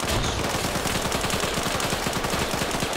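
Dense rapid gunfire in a squad-based shooter video game, a continuous automatic burst that stays loud and close for the whole stretch.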